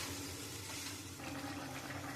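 Water poured into a pan of fish curry with potatoes, a steady splashing, gushing pour close by that runs through the whole short moment.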